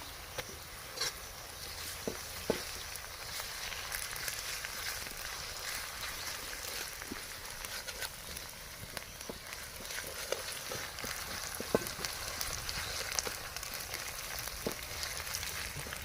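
Onions frying in a pan with ginger and garlic paste, cooked outdoors in a village setting: a steady, soft sizzle with scattered small pops and crackles throughout, fairly quiet and unbroken, with no talking.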